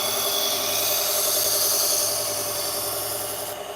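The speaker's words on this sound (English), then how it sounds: "Just letting the belt do its abrasive work by removing some of the metal." A knife sharpened on an abrasive belt grinder under medium pressure, giving a steady, loud, continuous grinding hiss with a droning motor hum that holds unbroken throughout.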